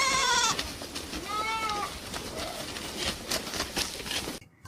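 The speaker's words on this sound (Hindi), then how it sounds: "गोपाल जल्दी से बाकी बकरियों को घर ले जाता है।" Cartoon goats bleat near and loud, with a quick series of wavering cries at the start and a softer bleat after, over a busy animated backdrop before a sudden cut to near silence.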